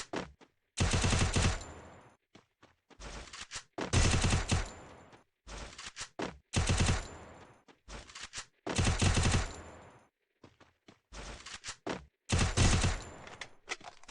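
Bursts of rapid automatic gunfire from a shooting video game played on a Lenovo emulator, several loud volleys of a second or so separated by short quiet gaps and scattered single shots.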